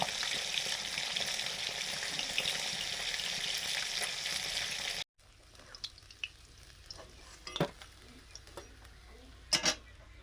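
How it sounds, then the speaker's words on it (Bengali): Black gram lentil dumplings (biulir daler bori) frying in oil: a loud, continuous sizzle for about five seconds, then abrupt quiet with faint clicks and a few sharp taps of utensils. "এগুলো বিউলির ডালের বড়ি, মাছের ঝোলে দেব, ভেজে নিচ্ছি"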